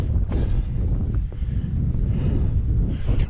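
High wind roaring across the exposed mountain ridge of Y Lliwedd, loud continuous gusty buffeting close on the microphone, with no pauses.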